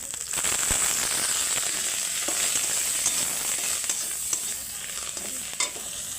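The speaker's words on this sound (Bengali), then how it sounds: "আমি অল্প একটু সরষে তেল দিয়ে দিচ্ছি। সরষে তেল দেওয়ার পরে 1 চামচ গোটা জিরা" Whole cumin seeds sizzle in hot mustard oil for an egg tadka dal, a continuous close, bright crackling hiss with scattered pops throughout.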